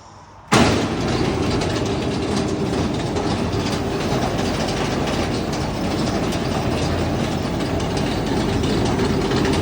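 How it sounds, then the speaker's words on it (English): A carpet-cleaning duster machine at a Turkish cleaning factory in Antalya starts abruptly and then runs as a loud, steady mechanical roar with a constant hum, beating dry dirt out of carpets, with no talk. "This is their duster for removing the dry dirt, the dry soil."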